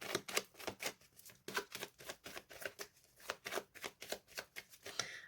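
Tarot cards are shuffled and drawn in a quick, crisp run of riffling flicks and snaps, close and fairly quiet, coming in bursts with short pauses between them.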